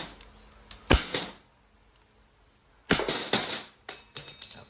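A Crosman SR 357 airgun revolver fires steel balls or .177 lead pellets at targets, producing sharp snapping cracks in two clusters, a pair of shots and then a quick run of several more, with quiet between.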